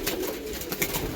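Male pigeons released for bathing under a cloudy sky coo softly in a low, continuous murmur, a steady close-range burble of overlapping calls with no talk.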